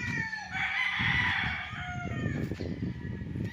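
Roosters crow repeatedly at a game farm in Liliw, Laguna, with a long drawn-out call standing out over overlapping clucks and crowing from other caged fowl close by.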